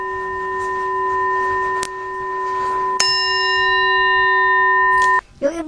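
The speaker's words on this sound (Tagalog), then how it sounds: "Creepy ng tunog ng bell na yun, yung metal singing bowl, tawag na doon." A metal singing bowl rings with a loud, sustained shimmering tone that is struck again partway through, its pure layered hum lingering before an abrupt cutoff and a bit of rustle.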